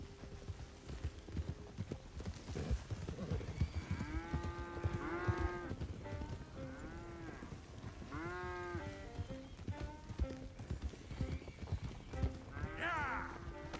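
Cattle herd being driven in Red Dead Redemption 2, with horse hooves clip-clopping steadily throughout, repeated lowing moos rising over the herd, and a busy, continuous mix of animal sounds close by.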